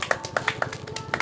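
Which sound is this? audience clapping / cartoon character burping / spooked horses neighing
audience clapping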